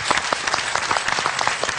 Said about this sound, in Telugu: సో చప్పట్లతో స్వాగతం పలుకుదామా ఈ కృష్ణుడికి